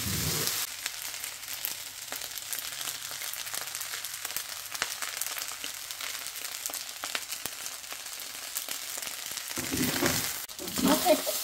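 Vegetable fried rice sizzles steadily in a pan, a close continuous hiss with occasional stirring scrapes, briefly louder near the end.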